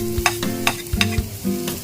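Garlic frying in oil in a pan, a steady crackling sizzle broken by quick scraping stirs of a utensil, close and clear with no talking.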